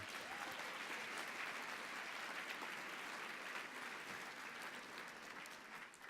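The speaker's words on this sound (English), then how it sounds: "Let's give her another round of applause" Conference audience claps steadily after an address at the NCRC 2015 conference, a broad, even wash of many hands heard faint and distant, tapering slightly near the end.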